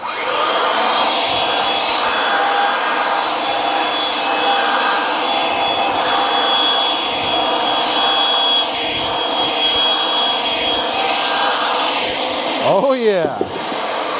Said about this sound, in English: The machine's going to turn. We're going to grab the feed handle for the tubing cutter and we're going to turn it to the right. That's going to cut the pipe.